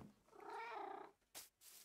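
A cat in the video game Minecraft gives one long, clear meow that rises and falls, followed by two short breathy hisses or puffs, fairly quiet and heard alone.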